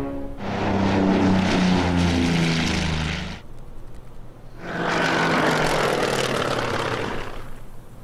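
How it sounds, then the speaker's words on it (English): Propeller aircraft engines in the Winter War strategy game droning in two long sustained passes, the first with a steady engine hum, a brief dip between, then a second loud drone; no talk. "Their aircraft are moving around."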